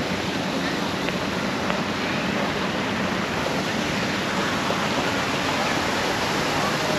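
The Merlion fountain in Singapore spouts water with a constant, dense rushing roar like a waterfall, steady and unbroken throughout.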